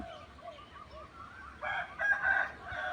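A rooster crows faintly at a distance among quiet rural outdoor ambience near rice fields in the morning, with a few softer bird calls earlier.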